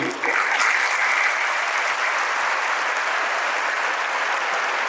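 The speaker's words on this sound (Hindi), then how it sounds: "मैं चाहूंगा एक बार तालियां हो पूरी टीम के लिए।" A large audience at a Hindi-language motivational talk applauding the whole team, with dense, steady, loud clapping that starts abruptly and holds at an even level throughout.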